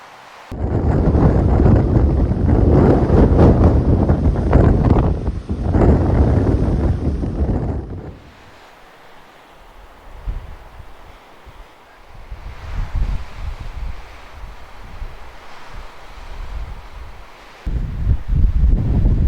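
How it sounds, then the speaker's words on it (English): Strong wind roars through the trees on a mountain peak on Anvil Island, loud, sustained gusts for about eight seconds, then easing to a lower, fluctuating rush before surging again at the end. "The wind just roaring around these trees in this peak."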